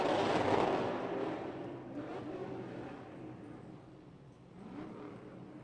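A drift car does a burnout heater at Lake Erie Speedway during a Formula D Pro-Am drift competition, heard as a broad roaring engine and tire rush that swells, eases, then rises again, fairly distant with no talk over it.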